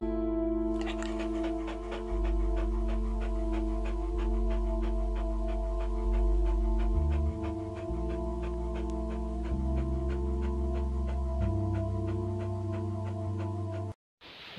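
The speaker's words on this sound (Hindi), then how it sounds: "द डॉग यानी कुत्ता।" A dog panting in quick rhythmic breaths, set against steady sustained musical tones with shifting low notes.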